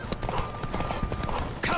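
A horse gallops in The Witcher 3, its hooves clip-clopping in a fast, steady rhythm throughout, loud and close, with a voice faintly present in the mix.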